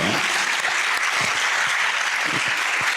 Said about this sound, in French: On va applaudir encore le père de Raoul.